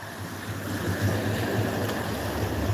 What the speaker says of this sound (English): You need to watch today as the waves approach. The waves are so heavy,